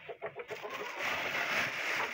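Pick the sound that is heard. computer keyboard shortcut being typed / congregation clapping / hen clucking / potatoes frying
hen clucking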